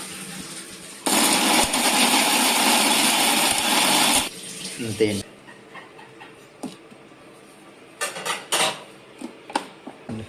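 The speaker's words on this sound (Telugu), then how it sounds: "చింతపండు మిక్సీ పట్టుకుంటున్నాం." A kitchen mixer grinder whirs loudly for about three seconds while grinding tamarind for homemade Andhra pickle, then stops, followed by scattered clinks and knocks of the jar and utensils.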